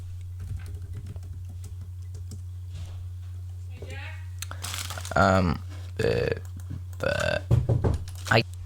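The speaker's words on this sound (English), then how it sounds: "I hate typing when the mic is in the way." Soft, rapid clicks of typing on a computer keyboard, with a microphone in the way, tick faintly over a steady low hum, followed by several loud, close belching sounds.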